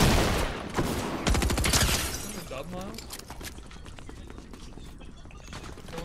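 Video game gun firing and exploding, a loud rapid burst of shots with shattering cracks for the first two seconds, then fading into quieter clatter and background game noise.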